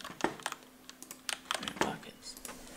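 Keystrokes on a computer keyboard while a Retail Tycoon 2 game is played, heard as sparse, uneven clicks close to the microphone with short pauses between bursts.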